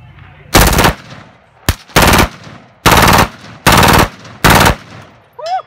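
A tiny machine gun fires five sharp bursts of rapid shots, each lasting about a quarter second with short pauses between them, very loud and close. A voice is heard briefly at the end.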